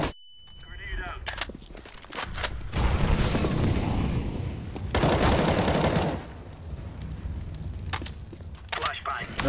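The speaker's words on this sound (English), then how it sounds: "Grenade out." A grenade goes off in Sniper Elite 4 as a heavy, loud burst of noise, followed by a second rumbling blast, with gunfire crackling around it and players talking over the action.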